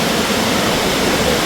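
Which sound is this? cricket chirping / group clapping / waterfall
waterfall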